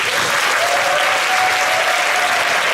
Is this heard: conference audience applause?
yes